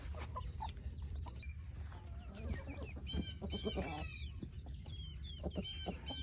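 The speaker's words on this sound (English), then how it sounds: "These other hens are looking for some water." Several hens cluck and murmur close by, with scattered squawks over a low steady hum.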